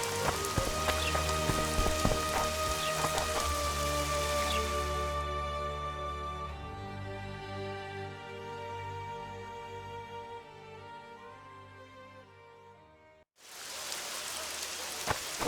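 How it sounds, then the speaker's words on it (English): Steady rain pours in The Witcher 2, with a dense patter under a tonal musical bed that fades away before the rain surges back loud near the end, and no voices. "Squirrel sorcerer summoned this rain."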